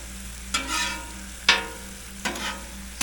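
American cheese stirred on a hot griddle for a cheesesteak, with three scraping spatula strokes spaced about a second apart over a low steady sizzle, close and moderately loud with no talking.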